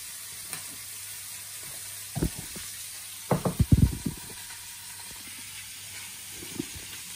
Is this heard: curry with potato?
yes